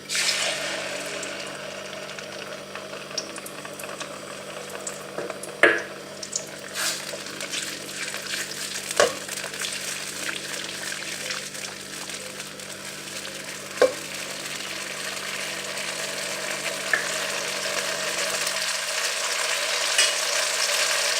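Tomato paste fries in hot oil over medium heat, a steady moderate sizzle running throughout with a low background hum and several sharp clicks or spoon taps scattered across it, no talking.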